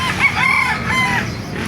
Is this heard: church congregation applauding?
no